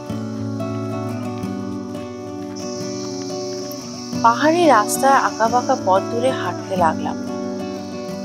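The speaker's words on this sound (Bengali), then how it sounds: "ঝিঝি পোকার ডাক" Crickets chirp steadily along a deserted road through dense forest in the hills near Darjeeling, a continuous high buzzing that runs the whole time while a voice speaks over it partway through.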